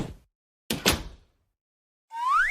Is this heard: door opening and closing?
yes